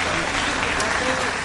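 Audience applauding a mariachi band at a live televised Mexican variety show, a steady dense wash of clapping filling the room, loud and continuous with a host's voice over it.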